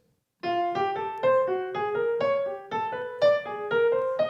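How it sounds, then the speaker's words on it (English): A clean, soft instrument plays a jazz chromatic pattern in swinging eighth notes, each note distinct and gently plucked, rising steadily with no other sounds. "In a jazz context, it would sound like this."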